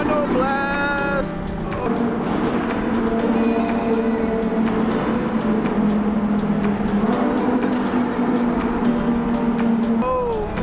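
A car engine roars loudly as it blasts through a tunnel during a rally convoy heading to a half-mile event. The engine note is sustained and rising, with sharp clicks and crackles over the drone.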